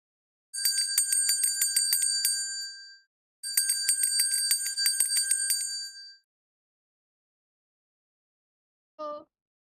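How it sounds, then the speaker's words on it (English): Two long bursts of rapid, bright bell ringing separated by a short pause, then silence and a single faint brief tone near the end. "It was a sound of a bell ringing, a simple sound of bell."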